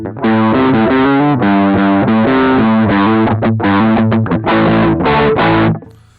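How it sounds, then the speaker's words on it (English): Harsh, fizzy distorted electric guitar played straight through a Rivera Mini RockRec amp head with no cabinet simulation, buzzy and bright, with chords and short choppy strums before it stops. "here's just the amp head with no EQ sweep, no cab sim"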